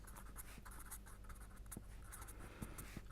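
Writing sounds from a pen or marker on a surface during a statistics lecture on hypothesis tests: steady, faint scratching strokes that continue alone throughout, with a few light taps.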